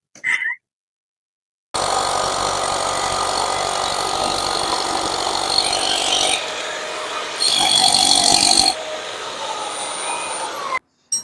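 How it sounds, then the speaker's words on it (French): A power drill bores a hole beneath a post for a carport anchor during a Trévi shelter installation, running as a loud steady whir with a brief louder surge near the end, starting and stopping abruptly. "Je vais venir passer mon abri et je vais commencer à percer mon trou."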